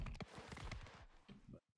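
Horse hooves clip-clop in Mount & Blade 2: Bannerlord, a rapid run of close, faint hoofbeats. They slow over under two seconds and then stop.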